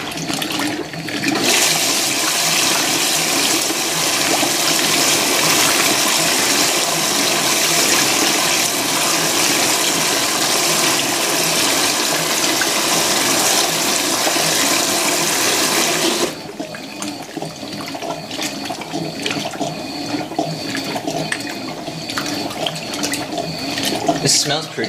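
A Fisher & Paykel Smart Drive GW712 washing machine fills with water, a loud steady gushing rush for about sixteen seconds that then drops to a quieter trickle and sloshing.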